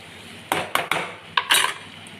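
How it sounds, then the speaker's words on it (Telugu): A ladle stirs bottle gourd curry with a pinch of garam masala in a cooking pot, giving several short, loud metallic scrapes and clanks in an irregular rhythm, up close with no talking. "చిటికెడు గరం మసాలా అండి వేసి బాగా కలపాలండి."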